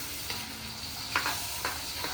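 Food is stirred and fried in a pan, giving a steady sizzling hiss broken by a few scraping stir strokes.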